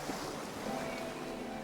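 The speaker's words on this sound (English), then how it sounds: "Why do I hear so much water?" Water rushes in a video game scene, a steady broadband wash like surf or flowing water that stays even and continuous throughout.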